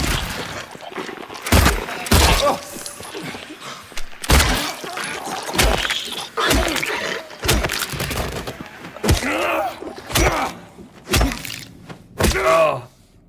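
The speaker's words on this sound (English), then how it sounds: "Like a shotgun shot, multiple pistol shots, and they still don't go down." Shotgun and pistol shots in the horror video game Silent Hill 2, a series of loud, sharp separate blasts spaced unevenly about a second apart, with groaning creature noises and rumble between them.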